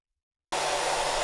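A hair dryer switches on close to a Rode NT-USB microphone after half a second of silence, then runs as a loud, steady, even roar.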